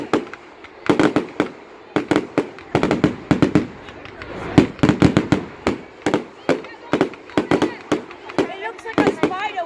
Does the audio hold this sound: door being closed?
no